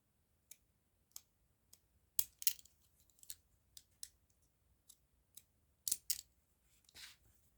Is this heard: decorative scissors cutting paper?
yes